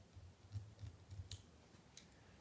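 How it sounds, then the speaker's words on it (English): Scissors snip thread on a piece of crystal resin mesh jewellery, several quick close, quiet cuts in an uneven rhythm with small clicks between them. "I'm gonna trim the thread off"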